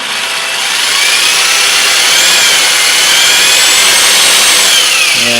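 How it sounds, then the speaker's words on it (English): A power drill runs steadily in reverse while fitting a button board on a CoCo VGA setup, its whine loud and continuous with a faint rising pitch, no talk. "I've got the drill in reverse."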